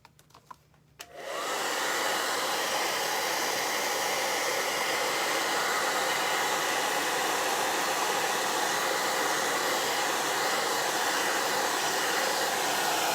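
A hair dryer switches on after a brief quiet moment and blows steadily and loudly at close range while drying freshly painted chalk-painted craft trims, with no speech over it.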